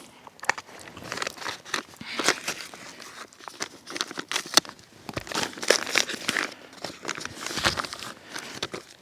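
A plastic package of summer sausage is torn and pulled open, giving bursts of close crinkling and crackling wrapper sounds with brief pauses between them.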